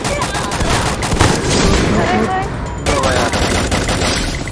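Rapid automatic gunfire rattles loudly in the video game Free Fire, dense bursts of shots that briefly thin out near the middle before resuming, with game sounds and voices mixed in.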